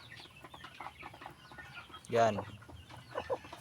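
Small backyard flock of chickens, two hens and two roosters grown in number, clucking in scattered bursts with one louder squawk near the middle, someone talking over them.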